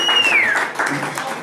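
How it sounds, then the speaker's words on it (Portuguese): Crowd applauding at a live music show in a small venue, the clapping loud and blended with a descending whistle near the start and cheering voices over it. "uma salva de palmas, que o show é agora"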